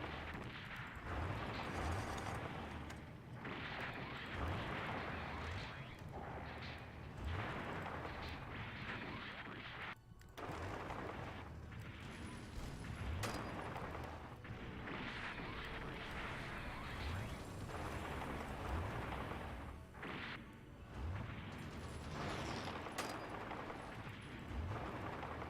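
Tank battle in a war mod video game: a dense, continuous barrage of booming cannon and gunfire blasts layered over rumbling, loud and sustained throughout, with occasional voices beneath the din.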